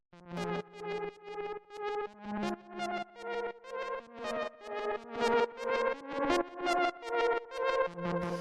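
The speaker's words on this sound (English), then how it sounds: "Next sound we have here is this lead" A synth lead built with Ableton's Analog instrument plays a plucky, bright, rhythmic pattern of short repeated notes with a swelling pulse, shifting pitch through the phrase and sounding alone with no voices.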